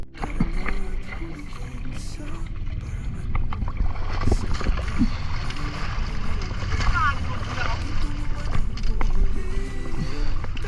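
A small outrigger boat with a motor draws closer on open sea off a shallow Philippine reef, a steady engine drone and water wash building gradually and staying loud throughout.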